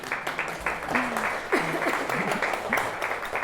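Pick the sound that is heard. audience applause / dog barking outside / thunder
audience applause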